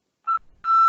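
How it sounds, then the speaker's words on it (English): An answering machine gives its tone after a voicemail greeting: a short electronic beep, a brief gap, then a longer steady beep, loud and clean against silence. "Leave a message after the beep."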